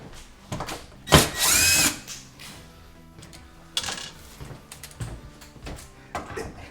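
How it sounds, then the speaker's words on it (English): A power drill unscrews screws from kitchen fittings: one loud sustained whir of about a second, then quieter scattered clicks and handling noise. "so unscrew it"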